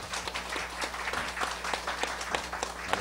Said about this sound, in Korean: 우리 또 경의 박수 한번 해.